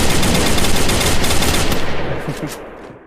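Rapid automatic gunfire from the game Free Fire rattles in a loud, continuous burst, then trails off near the end.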